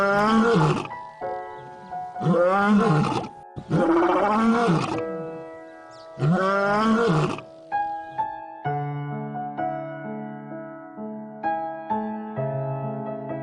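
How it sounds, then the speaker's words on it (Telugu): A lion roars several times in long, loud, throaty bursts, followed by lower, softer grunting calls, with no talk. "వీర గురించి ఆలోచిస్తున్న పారికి ఒక్కసారిగా వీర గర్జన వినగానే పరుగులు తీస్తూ వీరాని కలవడానికి వెళ్ళింది."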